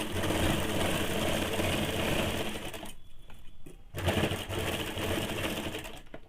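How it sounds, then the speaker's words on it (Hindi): A sewing machine stitches a heavy-size petticoat in loud, close, continuous runs, stopping briefly for about a second before starting up again. "अब 1 फुट नीचे एक और सिलाई इसमें डाल देंगे"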